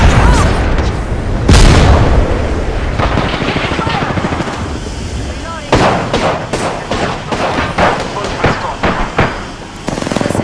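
Grenade blast and gunfire in the Apex Legends battle royale game: a loud boom early on, then dense, continuous rifle and automatic fire with sharp cracks throughout, mixed with voice chatter.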